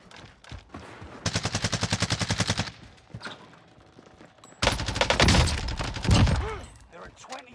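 Rapid bursts of automatic fire from the Lapa submachine gun in a Call of Duty Warzone match on Rebirth Island, two long sustained volleys separated by a quieter gap, loud and close with other game sounds and some talk between.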